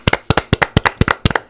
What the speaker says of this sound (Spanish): Y otro aplauso anticipado para Zanoletti y su expediente